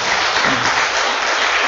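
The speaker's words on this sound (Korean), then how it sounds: "여러분 인사하실 때 박수로 환영해 주시면 좋겠습니다" A church congregation claps to welcome visiting guests during a service, producing a brief, dense wash of applause with no clear talking.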